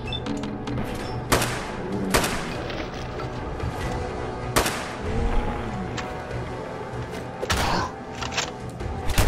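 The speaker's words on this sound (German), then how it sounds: "Hat er gerade echt mit einem Fatman auf uns geschossen?" Fatman mini-nuke launcher shots and explosions in Fallout 4, several heavy booms and sharp blasts spread across the stretch over a constant low rumble of game noise, loud and close.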